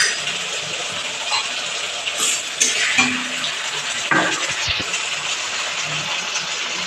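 Garlic paste and green-red chili paste frying in oil for ghugni, a steady close sizzle with a few sharp clinks and scrapes of a spoon against the pan, no talking.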